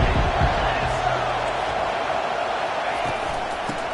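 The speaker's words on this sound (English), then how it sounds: "Decibels rising as the crowd gets behind this defense on 3rd down." A football stadium crowd at a Notre Dame versus Florida State game roars on third down, a dense, sustained wash of noise that stays loud throughout, with a commentator's voice faintly under it.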